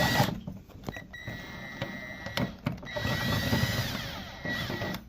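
A screw is driven into a crooked hole on a cheap diesel heater, with a power tool whirring in short irregular bursts and clicks close by, without talk.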